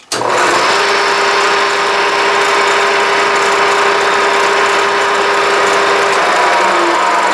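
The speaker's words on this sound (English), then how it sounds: "when I turn the motor on at 1750 RPM, and it'll read almost 4 amps." A drill press motor runs steadily at 1750 RPM in a machine shop, giving a loud, continuous whine and hum that starts abruptly and holds constant for several seconds with no talking.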